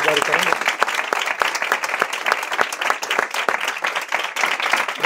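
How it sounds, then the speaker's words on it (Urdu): A church congregation claps loudly and steadily to welcome a guest, dense sustained applause filling the room without pause. "ہم ان کے لیے بھی زوردار تالیاں بجا کر خدا کی شکر گزاری کریں گے"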